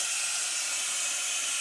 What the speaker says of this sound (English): all you got to do is push down and slide, and then all the steam will release.